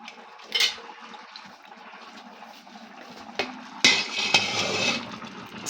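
A metal lid set onto a cooking pot of boiling coconut fish in a home kitchen gives a sharp clatter near the start, followed by clanks and rattles of cookware and water sounds, close and fairly loud with no talking.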